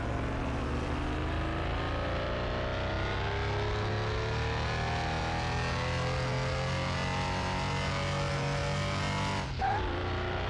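A 1964 Volkswagen Beetle Type 1 engine in Car Mechanic Simulator 2021 revs up steadily through the gears, a continuous rising engine drone that holds loud and close, then drops sharply near the end, with no voices over it.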